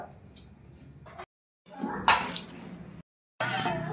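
Water splashes into a pot of mutton being cooked in yogurt, coming in three short gushing bursts separated by brief silences.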